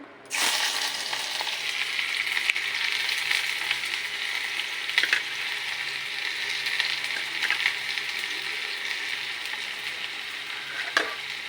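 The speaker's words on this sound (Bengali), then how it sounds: "আমি এখন পেঁয়াজটা ভেজে নিব।" Chopped onion sizzles steadily in hot oil in a wok, a loud continuous frying hiss starting abruptly and holding for several seconds with a few faint clinks, no talking.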